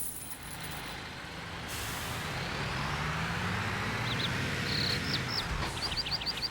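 Truck in a Construction Simulator game setting lets out sharp air brake hisses, with brief high chirping bursts near the end over a steady broadband wash of traffic-like noise; no talking.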